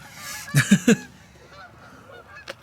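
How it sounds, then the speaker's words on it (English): Several sharp goose honks in a quick cluster, fairly close, followed by quieter calls and faint background noise. "Bunch of geese up there."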